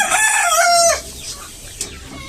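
A healthy farm chicken lets out one loud, drawn-out call close by, then the sound drops to faint background murmur for the remaining moment.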